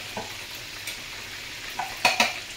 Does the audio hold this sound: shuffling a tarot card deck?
no